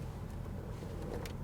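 Steady low rumble of a 1995 Buick Roadmaster, a big American car, driving along with its engine and road noise continuous and fairly close from inside the cabin.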